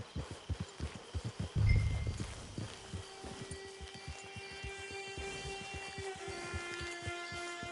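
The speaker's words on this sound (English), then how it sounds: "Hitch your horse." A horse in Red Dead Redemption Online clip-clops at a walk with a steady rhythm of hoof beats, close and clear, plus a brief snort and faint tonal game music underneath.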